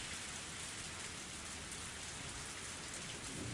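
Heavy rain pours down in a Higurashi video game scene, a dense, unbroken hiss of downpour that stays even and continuous from start to finish.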